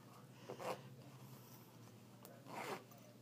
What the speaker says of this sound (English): Easily to zip back up.